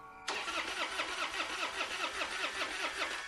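A car engine cranks and catches as a radio-drama sound effect, bursting in abruptly after a brief quiet moment, then churning in a steady, loud, rhythmic run that sounds alone with no voices.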